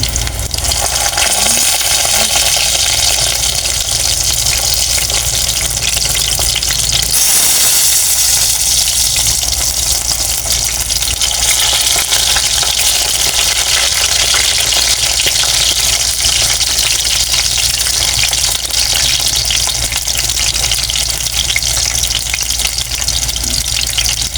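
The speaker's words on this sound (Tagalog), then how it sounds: "habang piniprito ko pa po yung pangalawang batch po nung talong" Eggplant (talong) frying in a pan gives a steady, loud, dense sizzling hiss that runs unbroken throughout, with no voices over it.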